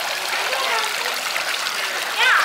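Water running and splashing at a water ball fountain in an amusement park, a steady close trickling stream with a brief louder splash near the end.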